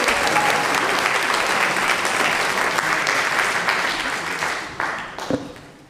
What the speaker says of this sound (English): Let's give another round of applause for Valerie for her great